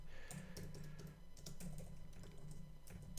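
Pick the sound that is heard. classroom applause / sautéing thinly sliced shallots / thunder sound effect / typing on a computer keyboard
typing on a computer keyboard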